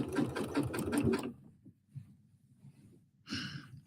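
A sewing machine stitches decorative thread in a fast, loud rhythmic burst for just over a second, then goes quiet with soft handling noises and a brief whirr at the end.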